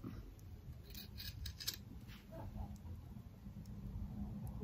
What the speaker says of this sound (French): Maintenant, on va venir couper les angles comme il faut.